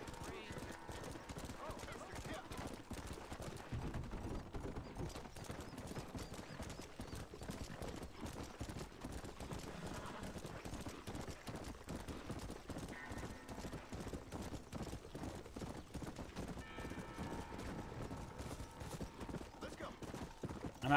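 In the PS5 game Red Dead Redemption, steady clip-clop of hooves runs throughout, with a horse's occasional whinny amid busy game audio, music and effects.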